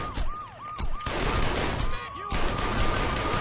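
Gunfire in Saints Row 2 rings out in bursts over a busy, loud game mix, with a wailing police siren sweeping up and down and a voice talking partway through.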